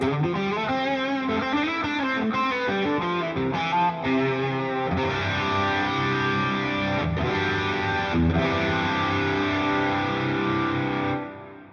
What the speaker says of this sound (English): there's a delay on this amp, a reverb on the other amp, chorus after the speaker there.